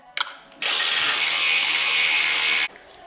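A power tool whirs steadily for about two seconds after a brief click, loud and close, as it backs out the bolts on the EGR tube of a 2010 Acura TL SH-AWD during a pre-cat delete install.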